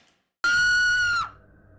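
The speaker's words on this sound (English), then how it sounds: "The scream of the girls connotes they are fearful of the doll" Girls in a horror film scream in fear of a malevolent doll, one loud sustained shriek lasting under a second before cutting off sharply into quiet room tone.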